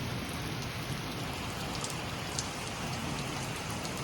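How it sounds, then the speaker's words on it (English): Heavy rain pours steadily during a storm with tornado warnings, a dense, continuous hiss of drops beating on surfaces that stays even and loud throughout, with no voices. "That was some heavy duty rain."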